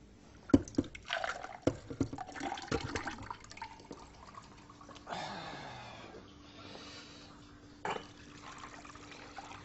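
Water poured onto carob in a pot in a kitchen, heard as faint, intermittent splashing and trickling bursts with clinks and handling noises between them, quiet and close.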